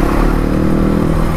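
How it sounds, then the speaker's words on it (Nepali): Stunt motorcycles on an off-road track rev and ride, a loud, close, continuous engine drone with rattling clatter over a short stretch. "स्टन्ट बाइकहरू पो छ त्यहाँ त"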